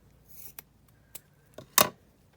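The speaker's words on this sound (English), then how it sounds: "let me just cut this piece down" Scissors cutting a piece of material for a base, a few quiet snips and rustles ending in one sharper, louder cut, close by and alone.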